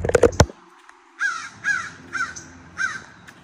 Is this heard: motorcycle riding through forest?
no